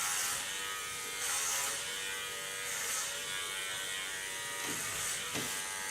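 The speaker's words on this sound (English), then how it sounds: "And then I'm going to work with a small clipper and then make an art hairstyle of it." A small electric hair clipper buzzes steadily and faintly while cutting short hair, a thin continuous whir with slight changes as it moves through the hair.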